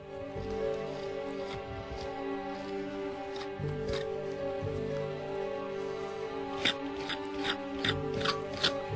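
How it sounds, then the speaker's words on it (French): Brush scrubbing dried excess material off a bonsai forest planting, with close, continuous rasping strokes under a faint background hum and a few sharper scratchy flicks toward the end. "Tout le surplus, quand ça sera sec, quand ça aura pris, on l'enlève avec une brosse."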